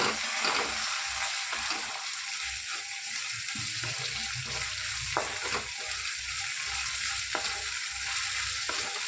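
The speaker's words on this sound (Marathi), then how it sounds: "मिक्स करून भाजून घेऊया चांगलं" Ginger garlic paste frying in a hot pan gives a steady close sizzle, joined by the scrape and knock of stirring, with no voices.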